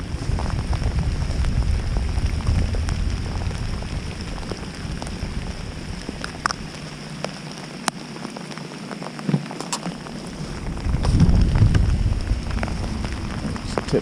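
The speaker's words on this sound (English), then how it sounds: "This rain is unrelenting." Heavy rain pours steadily during a fishing outing, a dense close hiss of drops on surfaces with scattered louder splats and a brief lull near the middle.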